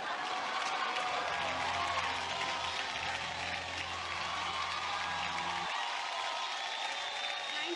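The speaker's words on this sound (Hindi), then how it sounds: "इस टीम के लिए जोरदार तालियां होनी चाहिए।" Studio audience applause on a Hindi comedy talk show, a dense, steady wash of many hands clapping that fills the whole stretch, with a low hum cutting out near the end.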